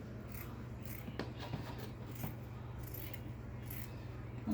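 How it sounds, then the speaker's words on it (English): Scissors snip through fabric in several short, scattered cuts against a low steady hum, close and fairly quiet. "Just cut from there till the end of."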